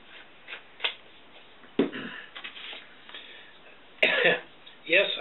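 Several short coughs and throat clearings come in uneven bursts, close to the listener, with quiet pauses between them.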